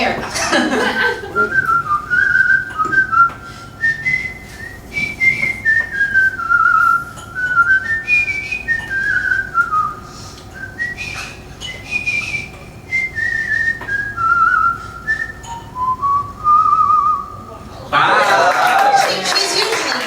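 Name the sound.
person whistling a self-written song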